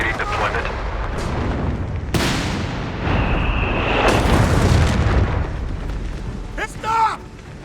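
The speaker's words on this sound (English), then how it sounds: "We have towed M1 howitzers awaiting deployment." Towed M1 pack howitzer artillery fire in the video game Company of Heroes 3, with heavy booms and blasts over continuous battle noise, and game voice lines heard among them.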